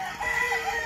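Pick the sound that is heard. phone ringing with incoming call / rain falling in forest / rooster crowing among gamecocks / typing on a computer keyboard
rooster crowing among gamecocks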